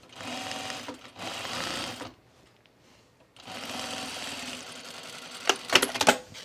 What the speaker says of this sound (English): I would definitely do a few back stitches right here because it's a high stress area.